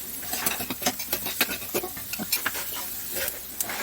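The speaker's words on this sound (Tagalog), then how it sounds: "Igisa na din natin ang ating mga gulay." Vegetables, carrots among them, being sautéed without garlic in a pan, with a soft sizzle under repeated scraping and clinking strokes of a utensil stirring against the metal.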